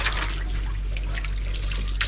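Water poured over a puppy during its bath, a steady close splashing rush that runs unbroken for about two seconds with no voices.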